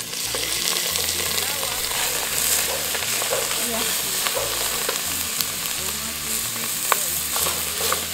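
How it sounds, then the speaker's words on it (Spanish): Hot oil in a pot sizzles loudly and steadily as the base for a lasagna meat sauce, with a constant crackling hiss and occasional spatters and a low hum underneath. "caliente el aceite para que diga chas"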